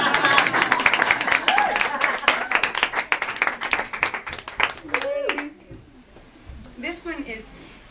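An audience at a live book reading claps for about five seconds in dense, lively bursts, then the clapping fades out and a few voices are heard over a quieter room.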